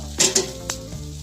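Herbal adai frying in groundnut oil on a pan, a steady sizzle with a few sharp scraping or clinking touches from a spatula against the pan, close and alone without speech.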